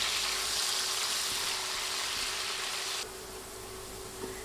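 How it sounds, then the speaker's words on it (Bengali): Potato pieces frying in hot oil over medium heat, a steady broadband sizzle that holds loud throughout and eases slightly partway, with no voices. "মিডিয়াম আঁচে আলু 4 থেকে 5 মিনিট ভাজব।"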